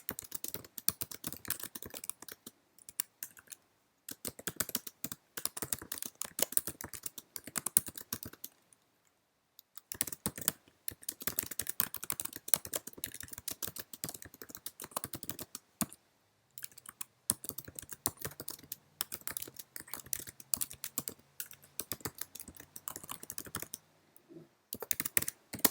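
Keys clatter on a computer keyboard in quick, uneven bursts with brief pauses, close and moderately loud, typing notes into a comment while revising an essay in a word processor.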